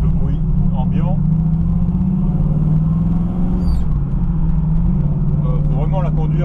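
A 1968 Chevrolet Camaro SS 396 big-block V8 rumbles steadily while driving, a deep low drone inside the cabin that holds constant beneath someone talking throughout.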